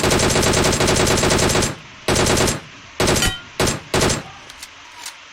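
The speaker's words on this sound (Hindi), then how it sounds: "इससे अच्छा मैं ऐसे बैठ के स्प्रे कर लेता तो भी इतनी गोलियां मिस नहीं होती" Rapid automatic gunfire in the game BGMI rattles in a long sustained burst, then breaks into several shorter bursts with brief gaps, loud and close.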